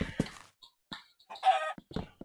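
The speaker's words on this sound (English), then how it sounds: "I'm not gonna let a chicken interrupt my builds" Minecraft chicken clucking: several short, separate clucks and squawks with silent gaps between them, close and fairly loud, no talk heard.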